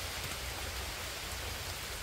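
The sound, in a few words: heavy rain falling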